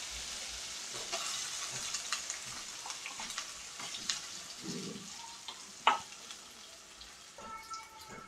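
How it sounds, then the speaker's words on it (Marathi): Ginger, garlic and chili paste fries on low flame in a pan, a quiet steady sizzle with a spoon scraping and tapping intermittently, one louder clack near the end, no voices. "अद्रक लसूण मिरची पेस्ट हलवून घ्यायची आहे।"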